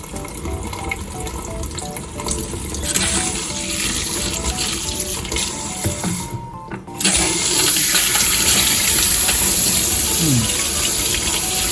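Hot water runs from a KVK MYM200-series single-lever mixer faucet that has a squeaking fault, a steady gushing stream that swells to a louder, fuller rush about two-thirds of the way through.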